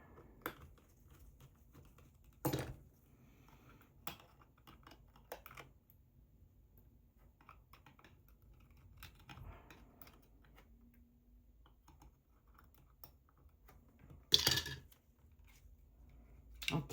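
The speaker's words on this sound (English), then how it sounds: "I'm gonna go ahead and remove these screws here" Small screws being removed from an Olympus XA A1L flash unit during disassembly: scattered light clicks and ticks of a screwdriver and plastic parts, with a few sharper knocks, close up in a quiet room without talk.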